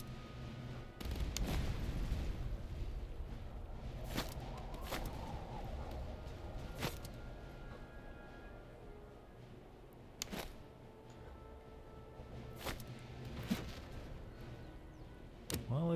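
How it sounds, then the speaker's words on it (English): Cannon fire in the Master of Command strategy game, a series of sharp booms spaced irregularly over a steady battlefield rumble, moderately distant and fairly quiet, with no talk. "So nice to hear the roar of the cannons."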